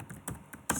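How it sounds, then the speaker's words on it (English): Keystrokes on a computer keyboard while entering an SQL query, a few distinct clicks spaced irregularly across under a second, close and fairly quiet. "So I'll type the query"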